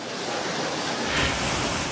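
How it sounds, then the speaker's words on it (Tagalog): Muddy floodwater rushes through Rodriguez, Rizal after the Wawa Dam overflows, a loud, steady broadband roar that swells slightly partway through, with no voices over it. "Kulay putik at rumaragas ang bahang yan sa Rodriguez, Rizal."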